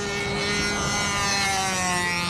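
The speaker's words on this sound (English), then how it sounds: "Now, listen to this engine at the end." Control-line model aircraft engine, a Windy U Master 791, running at Flushing Meadows and going lean at the end of its run: a steady, high-pitched buzzing whine with rich harmonics that hold constant throughout.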